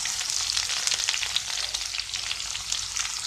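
Onion is added to hot oil with mustard and browned garlic, giving a bright, dense, continuous sizzle at close range with faint crackles and no voices.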